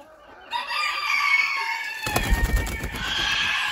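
A Belgian bantam rooster and hens clucking close by, a short run of bright calls that swells and is joined by a burst of rapid chattering clucks near the end.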